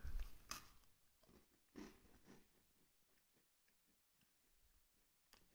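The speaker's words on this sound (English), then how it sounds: "See what it tastes like." Biting into a Belmont cookies and cream biscuit with vanilla filling, followed by a few seconds of close, quiet crunching and chewing that fades into soft mouth noises, with one more crunch at the end.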